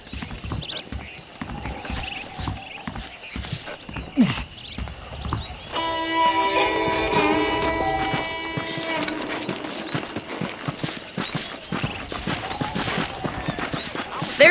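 Horse hooves clip-clop in a steady rhythm in Red Dead Redemption, with a neigh, a harmonic tone in the middle, and background game ambience.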